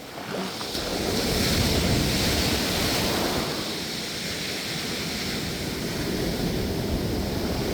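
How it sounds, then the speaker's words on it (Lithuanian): Big sea waves, around a metre high, roll onto the shore of Rhodes island in a constant, loud roar of surf with wind mixed in and no voices. "tokios bangos atrodo kaip metrinės ateina"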